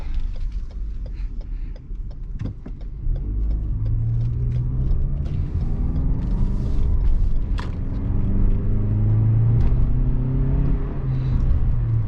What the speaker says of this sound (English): throw it into sport mode, make this right turn, and see how fast we can get up to speed